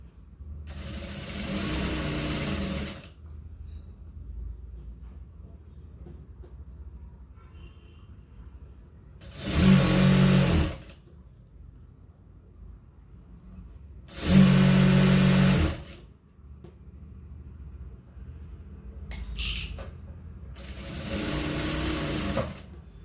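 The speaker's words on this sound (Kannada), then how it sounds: "ನೋಡಿಕೊಂಡು ಹೊಲಿರಿ, ಹುಷಾರಾಗಿ." A sewing machine stitches piping onto a ready-made blouse in four bursts of rapid mechanical whirring, each a few seconds long, separated by quiet pauses, close up and without talk.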